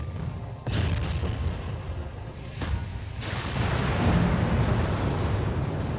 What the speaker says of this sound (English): Went into the barbette. Ammunition explosion.